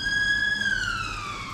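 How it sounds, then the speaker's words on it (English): A police-style siren wails briefly, its pitch sliding downward, heard from a distance and fairly faint. "The siren."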